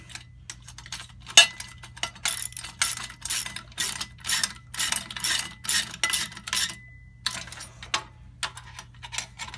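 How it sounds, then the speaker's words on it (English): Lock nuts being tightened with a 7/16 socket and wrench, giving a quick series of close metallic ratcheting clicks in short bursts with brief pauses between them. "Grab your wrenches. 7/16 socket and wrench is what I'm using."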